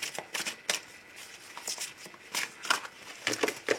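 Tarot cards being shuffled and cut, a run of crisp riffling bursts and soft papery flicks in uneven rhythm, close and fairly quiet with no talking.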